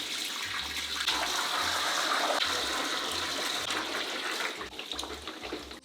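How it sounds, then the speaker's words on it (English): Water pours steadily onto dry, dusty aquarium sand in a continuous rushing, splashing stream, with low intermittent thumps underneath, and it tapers off near the end. "Now I'm going to pour some water on the sand."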